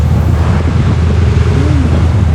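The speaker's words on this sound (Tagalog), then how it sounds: "Lakas yung hangin" Strong wind roars steadily across the microphone while fishing at sea off Mabini, Batangas, a constant low rumble with broadband gusting noise and no pauses.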